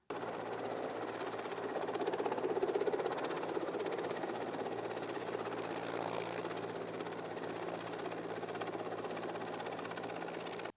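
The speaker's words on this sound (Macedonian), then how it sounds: "во касарната дојде со хеликоптер" A helicopter flies in to an army barracks, its steady rotor and engine roar sustained for the whole stretch at moderate distance, with no talk over it.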